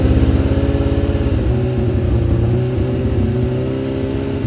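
A restored Suzuki GSX750F motorcycle with a rebuilt carburettor runs steadily at idle close by, a loud, even, throbbing engine note with no voices over it.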